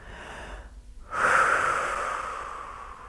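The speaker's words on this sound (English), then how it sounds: "Exhale everything out." A long, steady exhale during a slow somatic yoga flow, a soft breathy rush starting abruptly after a brief pause and gently fading over about two seconds, close and alone without talk.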